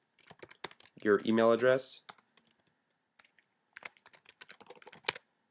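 Typing on a computer keyboard while setting up a Gmail account in Apple Mail: quiet, steady key clicks in bursts, briefly interrupted by a person speaking, then more rapid tapping.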